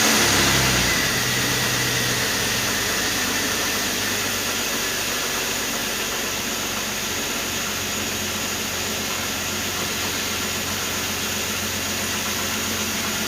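A Jeep Cherokee Sport engine runs after a full tune-up with oil, antifreeze and spark plug replacement, a steady loud idle hum after startup that holds even throughout, with no voices.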